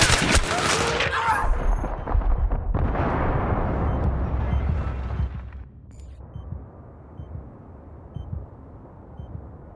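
Battlefield 3 combat on PS3: a loud grenade blast and bursts of gunfire fill the first half, fading into a lower rumble of distant battle with scattered shots afterward.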